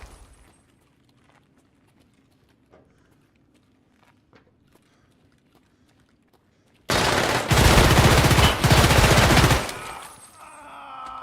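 Escape From Tarkov gunfire arrives suddenly as a loud, close automatic burst lasting several seconds after a long stretch of quiet footsteps and faint movement.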